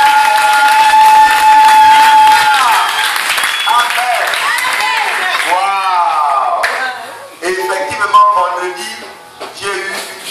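Applause and cheering ring out in a church service, with clapping and crowd voices rising under loud, sustained speech and singing, close and energetic throughout.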